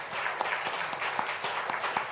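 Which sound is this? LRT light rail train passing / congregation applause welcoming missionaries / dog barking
congregation applause welcoming missionaries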